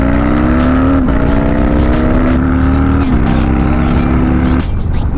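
Harley-Davidson Dyna motorcycle with an aftermarket-modified engine launching from a stop at a red light, a loud, steady, rumbling roar that rises and falls slightly in pitch, with a brief surge near the end.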